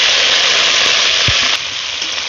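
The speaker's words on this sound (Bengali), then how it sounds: "এবার আমি বড় বড় করে পেঁয়াজ কাটা দিয়ে দিচ্ছি।" Large-cut onion pieces hit hot oil already holding whole black peppercorns and bay leaves, raising a loud, steady broadband sizzle that runs the whole time, with a soft thud midway and a slight drop in level near the end.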